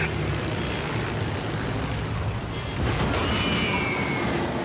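Fighter aircraft engines in the World of Warships video game drone in a continuous broad roar, with a brief whine sweeping through late on and no speech over it.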